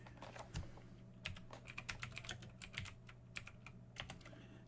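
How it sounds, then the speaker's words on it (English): Someone types on a computer keyboard in quick, irregular bursts of light clicks, fairly close and quiet, with brief pauses between runs of keystrokes. "My bad typing."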